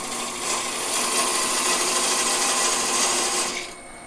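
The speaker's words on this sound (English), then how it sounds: "I'll be filing it off about here." A file rasps steadily against a goblet, cutting off part of it in a continuous, bright scraping that runs for a few seconds before stopping abruptly.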